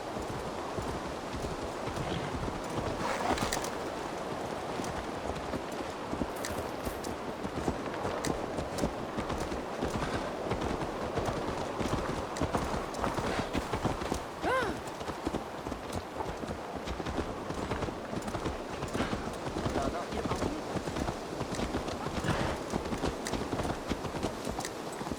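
Video game horse hooves clip-clop steadily at a walking pace in Assassin's Creed Valhalla, moderately close, over a constant outdoor ambience with no voices.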